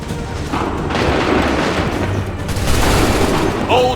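Musket gunfire in the Assassin's Creed 3 video game, booming volleys blending into a loud, continuous rumble of battle with a brief shout near the end.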